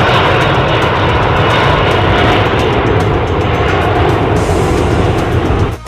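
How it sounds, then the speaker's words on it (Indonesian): A white airplane flies overhead, its engines a loud, steady roar that holds for several seconds and then cuts off abruptly. "Pesawat terbang warna putih."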